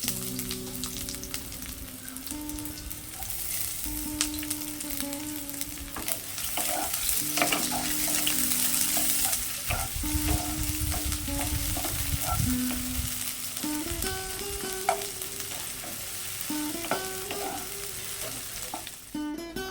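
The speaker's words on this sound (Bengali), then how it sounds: "পেঁয়াজ ভাজা হয়ে গেছে" Onions sizzle steadily in hot oil, with repeated scraping and stirring from a spatula and faint music underneath, no one speaking.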